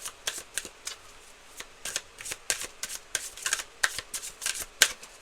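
Tarot cards being shuffled by hand, a quick run of crisp riffling and slapping bursts, close and fairly quiet, with no talk.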